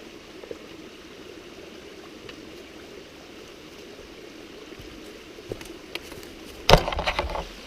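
Steady, close rush of water from a small stream crossing a hiking trail in Pennsylvania's Grand Canyon area, a broad even hiss throughout, broken near the end by a few louder splashes and knocks.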